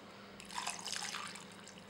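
Water is poured into a baking tray of pumpkin and potatoes, a soft, faint splashing trickle lasting about a second in a quiet home kitchen.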